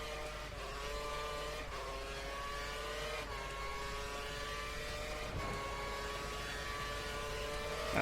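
Caterham Formula One car engine from the F1 2013 racing game, a steady high-pitched drone with rising harmonic sweeps as it accelerates through gear changes, loud and continuous with no talk over it.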